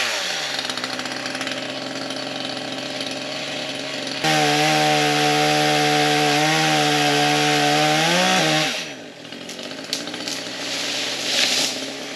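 A chainsaw runs hard while cutting through a tree as it falls in the woods. The engine whines steadily, then strains and bogs down in pitch as the bar gets caught, and the note sags and fades out near the end.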